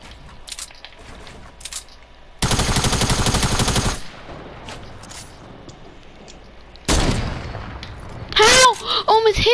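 Gunfire from weapons in the video game Fortnite: two loud sustained bursts of rapid shots, the first lasting over a second, the second shorter, with a sharp chirping game sound near the end and faint talk between.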